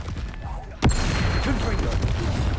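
A fiery Confringo spell blast from the Hogwarts Legacy game: one sharp, loud burst lands under a voice, followed by a sustained rumbling roar.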